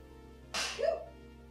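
A single sharp sneeze bursts out nearby, a quick breathy explosion ending in a short voiced tail, against a quiet background with no talking.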